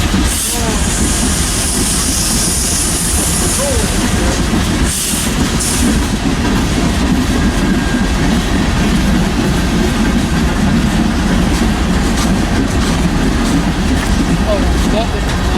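A Norfolk Southern freight train with tank cars rolls by close and loud past a factory in Cresson, Pennsylvania, steady clatter and rumble of wagons with hissing bursts, continuous throughout with no voices.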